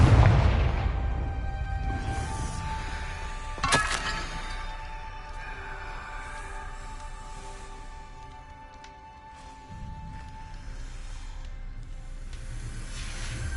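A Confringo blasting curse goes off in Hogwarts Legacy, one sharp explosive crack amid a busy game soundscape with lingering tonal music and ambient rumble; no talk.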